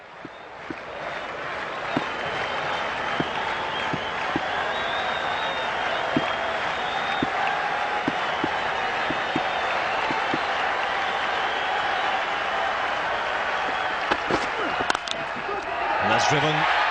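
Cricket crowd at a South Africa versus Australia Test match applauding a six, a sustained wash of clapping and cheering in a large ground with a commentator talking over it.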